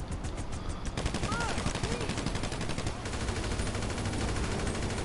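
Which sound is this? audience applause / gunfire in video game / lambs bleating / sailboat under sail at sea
gunfire in video game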